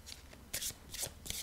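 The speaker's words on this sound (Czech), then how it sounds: "Tak já si tady budu chvilinku míchat." Tarot cards being shuffled by hand, several soft, close riffling bursts in an irregular rhythm, with no one talking over them.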